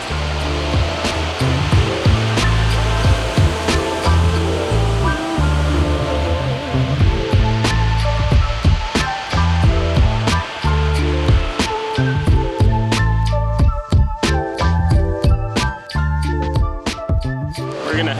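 Heavy Pacific surf on the Washington coast crashes in a continuous loud roar, with irregular surges and sharp gusty bursts of wind noise throughout.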